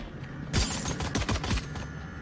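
Gunfire in a Valorant match during a pro tournament grand final, a short burst of several rapid shots over about a second, sharp and fairly loud against quiet background.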